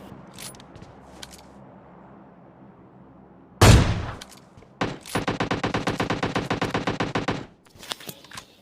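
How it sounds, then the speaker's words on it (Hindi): Gunfire in the PUBG Lite video game, where a single loud shot is followed by a sharp rapid burst of automatic fire lasting a couple of seconds, then a few faint distant shots. "मैं उसको एक आर्म का शॉट देता हूँ और फिर उसके बाद वो उधर लूटता रहता है तो फिर मैं उसको सेकंड शॉट देता हूँ"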